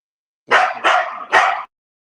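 A dog gives three sharp, loud barks in quick succession, close by, with silence before and after.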